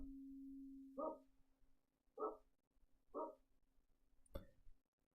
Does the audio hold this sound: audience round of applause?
no